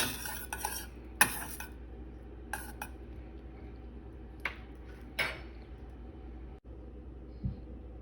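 A utensil scrapes and clinks around a frying pan as lemon juice and capers are stirred into a pan sauce for haddock, in scattered short strokes with quiet gaps between, close by and moderately soft.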